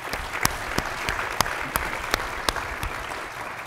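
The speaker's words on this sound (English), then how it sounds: "And let's give him a round of applause, Ken Adams." A crowd applauds steadily at a state governor's event in New York, a dense wash of clapping with a few sharper individual claps standing out, close and alone with no talk over it.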